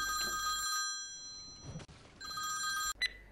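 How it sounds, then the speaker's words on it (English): A telephone rings in two bursts of bright, electronic trilling separated by a short pause, clear and fairly close, with some quieter background sound from a game between rings. "Oh, hang on. Phone's going."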